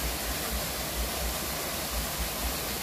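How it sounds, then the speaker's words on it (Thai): A waterfall at a Buddhist rock-carving site in Kalasin province, Thailand, gives off a steady, broadband rush of falling water that stays even and unbroken throughout, with no voices. "แล้วก็มีน้ำตกด้วยนะครับ"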